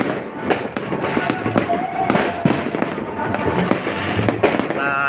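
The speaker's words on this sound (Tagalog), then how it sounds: "Ganda ng mga fireworks nila," Fireworks bursting at a New Year's Eve celebration, a steady crackle and boom of repeated explosions at close to middle distance, with voices of people talking underneath throughout.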